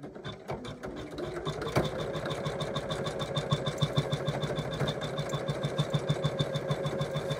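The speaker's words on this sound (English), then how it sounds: "so now I can stitch the next series of stitches" An embroidery sewing machine stitches an in-the-hoop Christmas stocking with a rapid, even mechanical chatter of needle strokes, steady and fairly close, running on continuously after a brief start.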